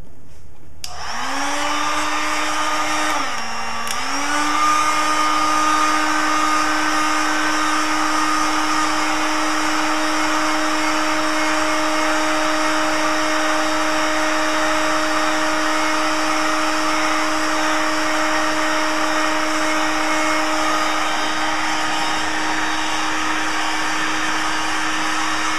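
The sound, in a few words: heat gun blowing hot air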